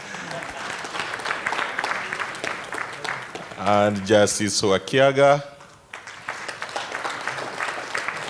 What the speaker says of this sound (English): let's give a round of applause to Judge Ado